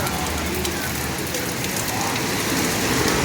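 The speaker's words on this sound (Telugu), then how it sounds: "పైనుంచి చినుకులు పడుతున్నాయి చూడండి" Water dripping and splashing down from above at a waterfall beside the walking pilgrimage path to the Venkateswara temple, a steady close patter of falling drops like rain on a hard surface, continuous for the whole clip.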